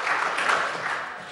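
Brief burst of applause in the New Zealand Parliament during a bill's first reading, a dense wash of clapping from many members lasting just over a second.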